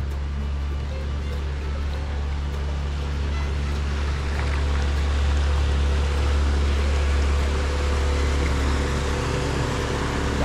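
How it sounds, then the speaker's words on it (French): Passing boat on the Canal de Savières near Lac du Bourget, a low steady engine rumble with heavy wash and churning waves close by, continuous and loud over wind. "Il est rien gros, mais alors dis donc, il fait de ces vagues."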